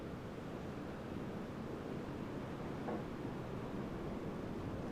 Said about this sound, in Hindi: उस तरफ से बहुत बारिश आ रही है।